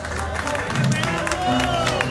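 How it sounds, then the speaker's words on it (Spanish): Loud crowd applause and cheering, with a dense wash of clapping and voices close by. "Un aplauso a Puerto Rico"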